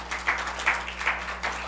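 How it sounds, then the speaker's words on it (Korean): A church congregation at a Friday worship service clapping, a short burst of rhythmic claps about four beats in a row, moderately loud in a reverberant room. "박수 한번 해줘요. 박수."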